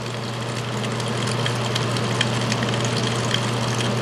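A pump drains water from a flooded water main pit during a repair, running as a steady, close mechanical drone with a constant watery rush and no pauses.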